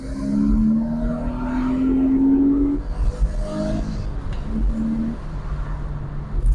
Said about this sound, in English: And that's the Porsche sound at its purest.